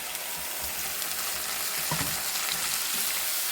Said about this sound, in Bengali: পেঁয়াজটা আমার ভাজা হয়ে গেছে এবারে ওর মধ্যে দিয়ে দিচ্ছি আমি এই মশলাটা ঢেলে